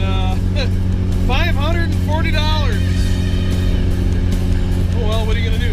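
An abandoned barn-find Porsche being driven, its steady engine drone and road rumble running low and constant throughout while someone talks over it.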